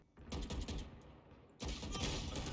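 Rapid automatic gunfire in the shooter game Valorant, two loud close bursts of full-auto shots separated by a brief lull.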